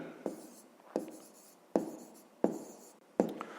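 A maths solution is being written by hand, with five distinct pen strokes or taps spaced in an uneven rhythm, close and clear over near silence.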